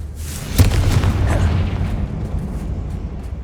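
A Confringo fire spell blasts inside a mine in the Hogwarts Legacy video game, one loud, sharp boom followed by a deep rumbling decay that fades over a few seconds.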